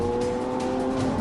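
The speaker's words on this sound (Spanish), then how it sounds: "Todos los coches tienen una prueba de carretera en la zona." A Lamborghini Aventador sports car is driven on a road test, its engine a steady loud drone with a tonal whine, heard close and continuous through the whole moment.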